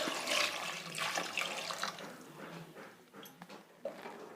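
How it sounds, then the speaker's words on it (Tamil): Water is poured into a pressure cooker holding tapioca for Malabar-style puzhukku, a soft splashing and trickling close by that gradually fades. "தேவையான அளவு தண்ணி சேர்த்துக்கலாம்."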